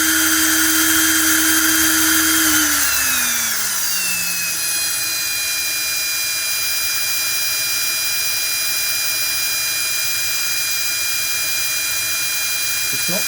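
A crashed E-flite Power 46 brushless motor is spun by a drill chucked onto its propeller end, giving a loud steady whine that drops in pitch as the drill slows, then a lingering high ringing tone over a quieter hum.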